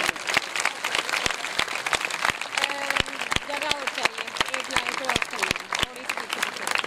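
Audience applause for hostel children at a Ziarat Maa Mariyam religious gathering in Pasrur, a steady patter of many hands clapping throughout, with sharp individual claps standing out and a voice or music line faintly underneath.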